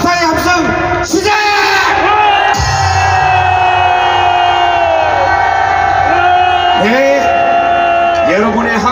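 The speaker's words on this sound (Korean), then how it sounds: "그분들에게 다시 한번 감사의 함성 시작!" A large crowd at a rally gathering for free unification shouts and cheers loudly and steadily, with sustained yells and bellowing voices that swell and overlap nearly without pause, very close and dominant.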